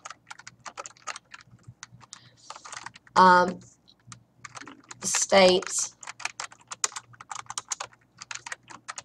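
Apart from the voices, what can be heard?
typing on a computer keyboard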